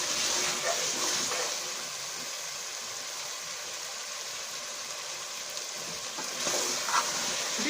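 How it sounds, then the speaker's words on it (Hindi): Mutton and potatoes fry in a pan with a loud, steady sizzle, close and continuous, with a few brief stirring scrapes and no talking. "अब गोश्त और आलू को भूनेंगे 10-15 मिनट में। अब इसको हम भून रहे हैं।"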